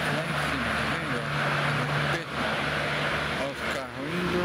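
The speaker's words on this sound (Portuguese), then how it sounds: "Olha os carros indo." Cars stream along a busy city road near a bridge, a continuous loud traffic roar with swells as vehicles pass close by, while voices talk over it.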